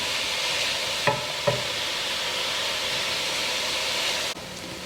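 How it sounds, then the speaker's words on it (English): Onions cooked about four minutes with garlic just added, sizzling loudly and evenly in a pot for black bean soup, a couple of brief utensil knocks, then the sizzle softens near the end. "the onions have been cooking for about 4 minutes, and I went ahead and put the garlic in"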